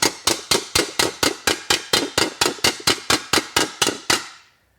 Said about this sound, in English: by using the slap hammer and the egg dolly, I've been able to smooth out this area